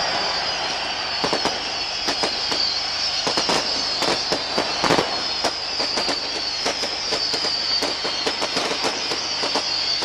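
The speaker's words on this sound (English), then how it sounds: "More fireworks from the railway stand to help aid and abet the Glentoran celebrations." Fireworks go off repeatedly from the railway stand during a Glentoran football match celebration, a rapid irregular string of sharp cracks and bangs over a steady roaring crowd.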